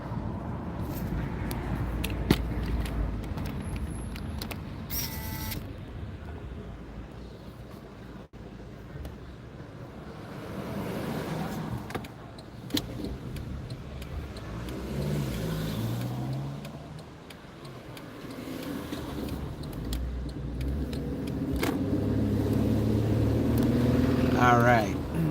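A car driving, heard from inside the cabin as a steady low engine and road rumble with some wind noise, continuous throughout, while someone talks over it.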